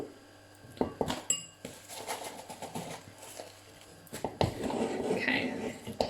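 Spoon scraping and clinking against a bowl while mixing zingy orange cookie dough, irregular close knocks and scrapes in quick bursts with quieter pauses between.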